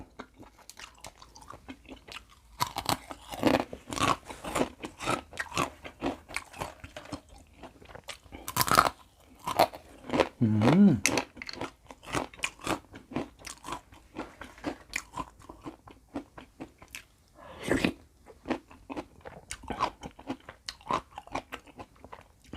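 Crispy fried rice vermicelli in a gravy-topped noodle dish with broccoli gives close, loud, rapid crunching bites and chewing that repeat steadily throughout, with no talking.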